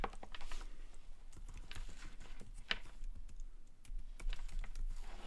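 Typing on a computer keyboard in a quiet room: a steady patter of soft key clicks with a few sharper taps, close and moderately faint, with no talking.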